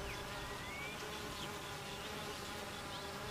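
Honey bees buzz steadily at their hive on a hot summer day, a dense continuous drone of many wings fanning, close and even throughout with no voices.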